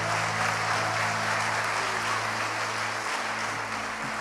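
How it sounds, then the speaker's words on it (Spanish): A church congregation applauds in a steady, sustained wash of clapping with a constant low hum beneath it, unbroken and fairly even in loudness throughout. "vamos a darle un aplauso al Señor."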